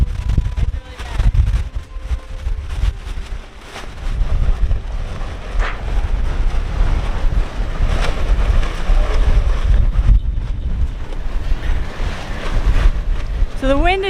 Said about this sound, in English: So the wind is so bad right now.